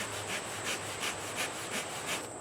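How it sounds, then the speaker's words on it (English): Rhythmic back-and-forth wooden rasping, about six even strokes, as a spindle is sawed with a bow against a wooden board, close and fairly quiet. "I'm going to try to do a bow drill."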